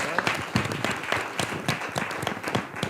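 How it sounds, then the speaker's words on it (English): Scattered audience applause at a school board of education meeting, a modest round of claps from a small room, fairly close and steady for a few seconds with no talk over it. "You can clap for that."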